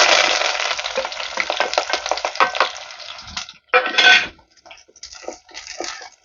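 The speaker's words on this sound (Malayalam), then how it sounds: "ഇനി നമുക്ക് അരിഞ്ഞു വെച്ചിരിക്കുന്ന ഇഞ്ചി, പച്ചമുളക്, വേപ്പില, വെളുത്തുള്ളി, ചെറിയ ഉള്ളി, സവാള ഇപ്പോൾ ചേർത്ത് കൊടുക്കാം." Chopped ginger, green chillies, curry leaves, garlic, shallots and onion hit hot oil in a pan, setting off a loud, bright sizzle and stirring clatter that fades into intermittent spoon-on-pan scrapes and softer frying.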